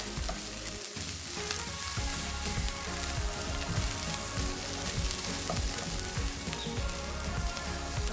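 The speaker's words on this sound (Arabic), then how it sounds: "وادي تشويحه للبهارات مع البصل وصدور الفراخ" Onions, spices and chicken breast sautéing in a hot pan, a close, steady sizzle and crackle with repeated scraping stirs throughout, no talking.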